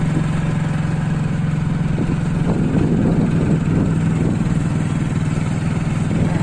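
A motorbike engine drones steadily and close while riding along the S-turn road at Sirkabad, Purulia, with a low constant rumble, wind noise, and some rougher mechanical rattling in the middle.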